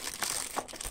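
Small plastic Ziploc bag crinkling while it is handled during unpacking of individually packaged Sunnysky brushless motor parts, a close, continuous rustle with a few sharper crackles.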